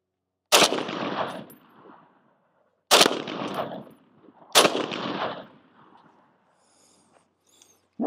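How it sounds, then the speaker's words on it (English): Three loud rifle shots from a rifle fitted with a .308 conversion, each a sharp close crack followed by a short rolling echo, spaced a couple of seconds apart, with no talking. "We'll see if the rifle actually works, the 308 conversion, the magazine, all of it."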